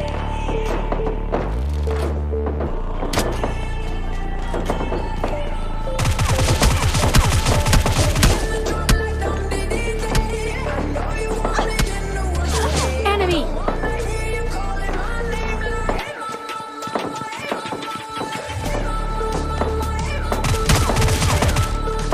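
Bursts of gunfire during a PUBG Lite firefight, mixing crossbow and shotgun shots in close, repeated clusters with sharp impacts under a dense game soundscape, loud throughout with a brief lull near the middle.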